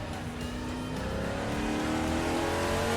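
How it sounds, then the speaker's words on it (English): A muscle car driving a winding country road in late-afternoon light, its engine droning steadily and building slightly as it accelerates, loud and close throughout with no talking. "Got my muscle car."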